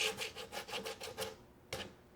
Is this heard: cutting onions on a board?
no